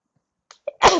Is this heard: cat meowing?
no